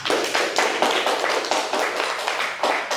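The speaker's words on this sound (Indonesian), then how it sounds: "beri tepuk tangan yang meriah untuk kedua narasumber tadi" An audience at an indoor discussion event applauds two speakers, a dense, continuous patter of many hands clapping at once, steady and fairly loud for the full stretch.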